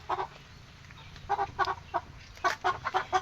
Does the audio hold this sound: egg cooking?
no